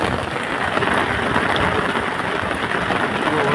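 Heavy rain pours steadily in a village downpour, a dense, loud, unbroken hiss with no pauses and no voices over it.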